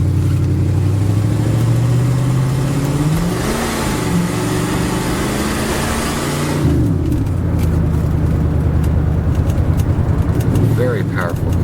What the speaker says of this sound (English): Very powerful car. Right up to the speed limit like it's no thing. Upshift, downshift is great.